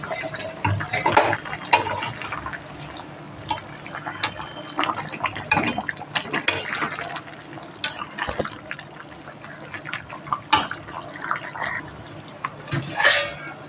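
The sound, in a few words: fish curry broth boiling in pan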